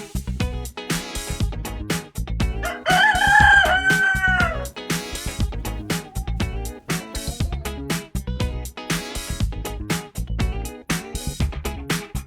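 A backyard rooster crows once, loud and near, over a steady backdrop of rhythmic music with sharp beats.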